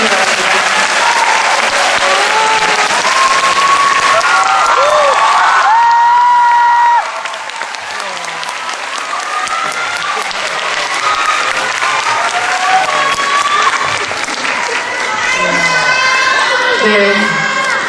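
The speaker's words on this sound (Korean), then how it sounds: "박수로 맞아주시기 바랍니다." Audience applause at a film festival guest talk, sustained and loud throughout, mixed with crowd cheering and some voices, with a slight dip midway before continuing.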